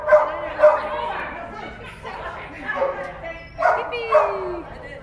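A happy puppy barks and yips in short bright bursts, about five or six close, lively calls in a row, with people talking around it.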